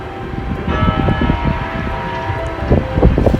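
A church bell tolling the hour near a home, a steady series of resonant strikes ringing out over wind noise on the microphone, moderately loud and without talk.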